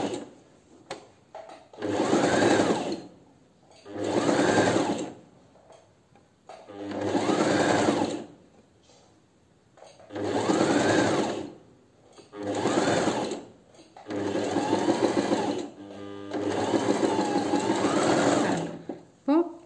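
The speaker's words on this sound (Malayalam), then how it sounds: "ഇത് നമ്മൾ ഇങ്ങനെ സ്റ്റിച്ച് ചെയ്തു കൊടുത്തു" A sewing machine stitching a petticoat runs in repeated bursts of a couple of seconds each, with short pauses between them, loud and close; a voice talks in the gaps.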